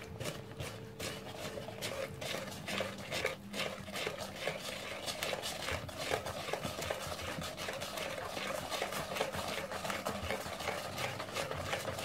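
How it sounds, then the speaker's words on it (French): Apple cake batter being stirred in a bowl after milk is added, with steady scraping and clinking of utensil against the bowl continuing throughout at a moderate, close level. "Et on mélange."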